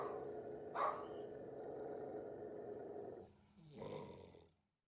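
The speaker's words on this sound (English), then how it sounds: "the dog is barking and growling at the front of the kennel" A dog in a kennel growls low and continuously with a couple of rough bark-like outbursts, close by and fairly quiet.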